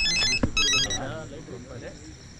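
A mobile phone ringtone plays a bright repeating melodic pattern near the start, then cuts off as a voice takes over.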